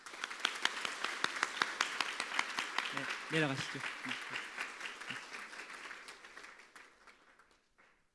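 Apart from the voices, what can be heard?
church congregation applauding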